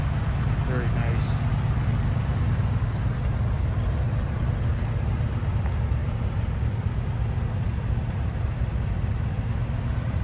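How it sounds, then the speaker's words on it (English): A restored 1977 Ford Bronco with a 302 V8 and stock-style exhaust idles with a steady, quiet low rumble that holds even throughout. "Very nice sounding stock style exhaust. Nice and quiet with this a little bit of rumble."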